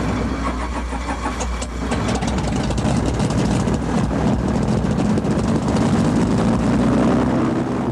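A Lake SeaWolf amphibious aircraft's propeller engine roars loud and close. A rough, uneven drone builds into a denser, steady throb with rapid beating, and no voices are heard.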